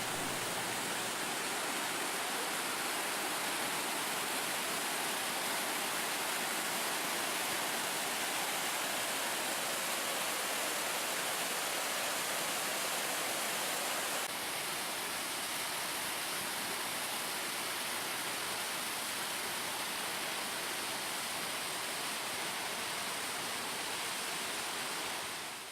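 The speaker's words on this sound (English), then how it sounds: "The Hookah Falls, coming off Lake Taupo, marks the spot where New Zealand's longest river" Huka Falls on the Waikato River, pouring out of Lake Taupo in New Zealand, gives a constant loud roar of rushing water, broad and unbroken for the whole stretch with no voices.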